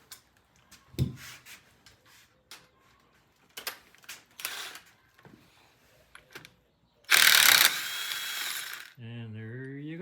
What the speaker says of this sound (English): we'll use a regular ratchet from this point on just to take that nut out